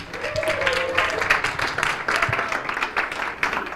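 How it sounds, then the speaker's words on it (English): An audience at a legal conference summit for general counsel and in-house lawyers gives a steady round of applause, a dense wash of clapping that holds throughout with a faint murmur of voices underneath. "Please, round of applause for Niti."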